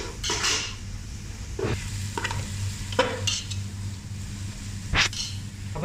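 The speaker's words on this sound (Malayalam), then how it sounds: "ബിരിയാണിക്ക് ആവശ്യമായ രീതിയിൽ നന്നായിട്ട് ഉള്ളി ഒന്ന് വഴറ്റിയെടുക്കാം" Sliced onions sautéing in a pan for Malabar chicken biryani, a soft continuous sizzle broken by several scraping stirs and clinks of a spoon against the pan.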